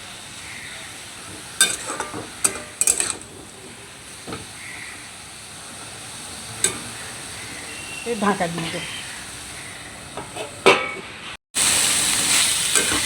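Pointed gourd (potol) cooking with mustard in a pan sizzles softly while a spatula scrapes and clacks in scattered strokes; a person speaks briefly, and a louder hiss rises at the end.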